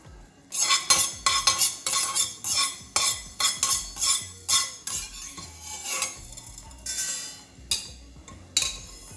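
A metal spoon stirs and scrapes fenugreek seeds dry-roasting in a pan for puliyodharai, with a steady run of rhythmic clinks and scrapes close up and no talking.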